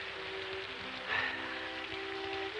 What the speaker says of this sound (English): It's the rain. It's come at last.